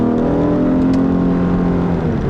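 Engine of a 2010 Acura ZDX revving hard with a VTEC spike near 5,000 RPM, a loud steady harmonic drone from inside the car, heard alone without talk.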